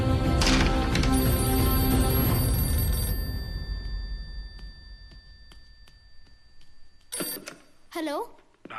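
A telephone bell ringing indoors in a movie scene, sharp trilling bursts that follow a loud crash and then fade, with a voice speaking in between.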